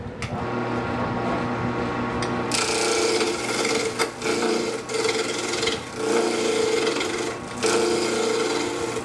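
Skew chisel taking a planing cut along spinning wood on a lathe, a steady continuous scraping hiss under the motor hum, growing brighter and fuller after the first couple of seconds with brief dips as the tool shifts.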